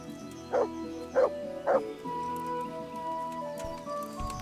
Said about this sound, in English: Get out of the way, dog!